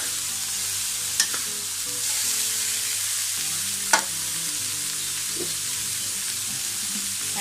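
Bean sprouts, tofu and minced pork stir-fry in a pan with a steady, close sizzle. A couple of sharp utensil clinks against the pan cut through.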